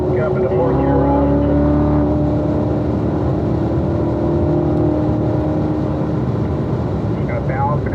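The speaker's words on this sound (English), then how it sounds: "Let's get a nice run up the straightaway here. Get up into 4th gear, Rob." Race car engine pulling hard up a straightaway during lead-follow laps at a performance driving school, shifting up into fourth gear; a loud, steady, close roar with rising harmonic tones that fills the whole stretch.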